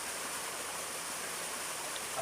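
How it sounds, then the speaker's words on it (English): A swollen stream after heavy rain near Eagle's Crag, Todmorden, rushes steadily in a dense, close roar with no breaks and no voices. "there's a lot of water coming through here at the moment"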